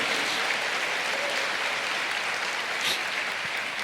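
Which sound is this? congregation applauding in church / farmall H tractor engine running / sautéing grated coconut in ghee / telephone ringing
congregation applauding in church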